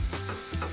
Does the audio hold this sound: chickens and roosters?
no